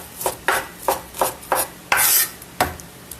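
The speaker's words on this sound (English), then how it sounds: "we're going to cut it in long slices" A knife slicing food into long strips against a board, six or seven crisp strokes at an even pace, close and fairly loud, one stroke drawn out longer than the others, with no talking.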